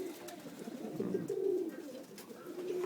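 Pet pigeons of foreign breeds cooing close by, soft rolling low coos that repeat and overlap in a steady murmur, with no talk.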